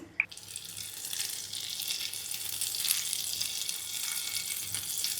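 Butter and olive oil heat in a pan on the stove for a Kannada-style bok choy stir-fry, giving a steady, close hiss of broad sizzle with one small clink near the start and no talking.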